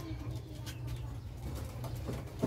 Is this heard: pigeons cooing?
yes